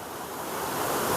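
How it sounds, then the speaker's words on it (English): A mountain river rushes beneath a bridge, producing a constant broad hiss of flowing water that swells slightly louder toward the end, with no voices. "You can just look, like stare at this water flowing for hours together"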